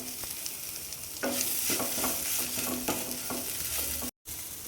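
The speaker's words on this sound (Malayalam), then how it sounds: "പൊടികളുടെ എല്ലാം പച്ച വാസന പോകുന്നത് വരെ ലോ ഫ്ലെയിമിൽ വെച്ചിട്ട് ഇളക്കി കൊടുക്കാം" Turmeric, coriander, chilli and pepper powders stirred in a pan over a low flame, a continuous close sizzle with rhythmic scraping strokes of the spoon, dropping out briefly near the end.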